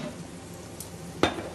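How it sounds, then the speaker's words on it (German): Asparagus pan-frying in a kitchen gives a steady, soft sizzle throughout, with one sharp metallic clink of a utensil against the pan near the end. "der Spargel ist schon schön anbraten jetzt"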